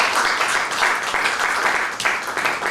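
An audience at a savings conference claps steadily, a dense, even patter of applause that holds at one level for a few seconds with no voices over it.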